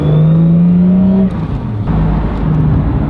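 A road car powered by an SR20DET engine with a big 4-inch exhaust drones steadily from inside the cabin, a low sustained tone that eases as the revs shift while driving on a winter's day.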